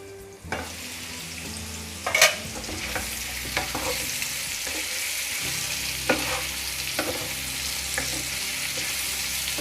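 Onions and potatoes frying in a covered pan over medium flame, a steady close sizzle with occasional clinks and scrapes of stirring.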